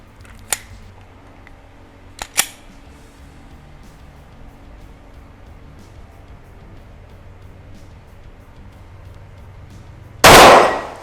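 A Blue Armory Bull Axe gun fires a single shot in a long-range test at 23 metres. One loud, sharp blast comes near the end after a quiet stretch broken only by a few faint clicks and clanks.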